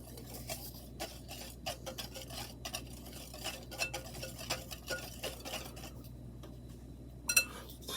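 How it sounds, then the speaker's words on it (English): Ingredients for peanut butter cookies are whisked in a bowl, giving a steady run of quick, soft utensil taps and scrapes close by, with one sharper clink near the end. "Now we are whisking."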